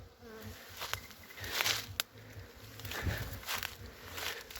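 A swarm of honey bees hanging in a hazelnut bush outdoors in spring, giving a continuous buzzing hum, with a few brief rustles and steps nearby and no voices.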